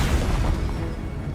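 Stupefy spell cast in Hogwarts Legacy on PS5 Pro, a single short, low booming burst that quickly fades.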